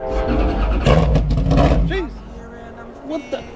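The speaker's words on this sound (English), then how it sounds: "There's a guy with a motorcycle making noise." A loud engine roars and revs up close, then fades, while a man exclaims briefly over it.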